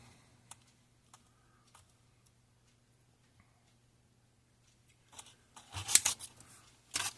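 Heat shrink tubing being snipped into short sections in a garage workshop, a few faint isolated clicks of cutting, then a louder burst of crisp snipping and handling noise near the end.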